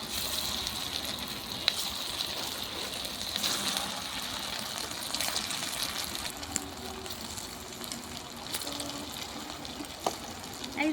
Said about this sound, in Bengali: এক এক করে তেলটা গরম হয়ে গেছে এক এক করে ছেড়ে দেবো